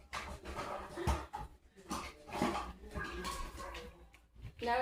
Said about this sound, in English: Oh, you silly dog.